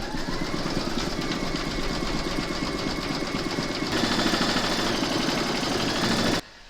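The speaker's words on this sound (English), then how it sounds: "then you're going to stitch round number 6, and that's going to do the zigzagging of the raw edge, then the satin stitching" An embroidery machine runs zigzag and satin stitches on a cherry coaster in the hoop, a steady rapid mechanical chatter that grows slightly louder midway before stopping abruptly near the end.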